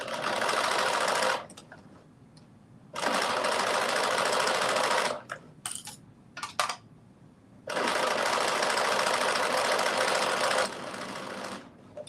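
A sewing machine stitches a 5/8 inch seam on a drop shoulder, long sleeve top, running in three steady, loud whirring bursts with short quiet gaps between them.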